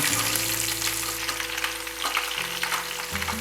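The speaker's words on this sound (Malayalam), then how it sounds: "സവാള ഇട്ട് കൊടുത്തിട്ട് നമുക്കൊന്ന് നല്ലോണം വഴറ്റണം." Long-sliced onions fry in a pan after mustard seeds for a Kerala-style spicy beef curry, giving a steady, close, loud sizzle with some stirring and an underlying low hum.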